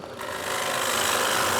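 A gouge cuts eastern red cedar on a wood lathe, producing a loud, close, continuous rasping hiss that holds steady throughout.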